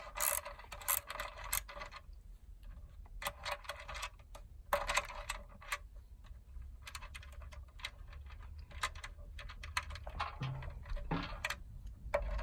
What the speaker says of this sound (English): A 13 mils of socket, you can undo the nut.